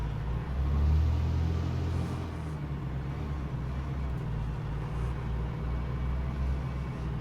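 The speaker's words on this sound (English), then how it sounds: "have Serial Black's Cummins ISX 15 in a 600 horsepower variant" Cummins ISX 15 diesel rated at 600 horsepower, with a 3.55 differential, in American Truck Simulator, rumbling in a steady low drone with windows down, alone and even in level.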